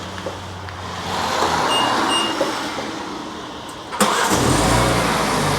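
A BMW X3 engine fires up by remote start outdoors, a sudden catch around four seconds followed by a steady low idle rumble, preceded by faint ambient noise and soft beeps.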